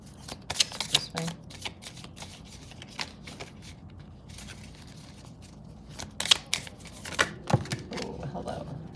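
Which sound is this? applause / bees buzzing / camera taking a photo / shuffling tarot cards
shuffling tarot cards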